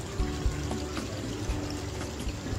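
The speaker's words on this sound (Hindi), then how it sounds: "पानी ऐड करेंगे" Water poured into a pan of beef kofta curry gravy after the meatballs have been fried, a steady splashing pour that runs continuously, fairly close and without talk.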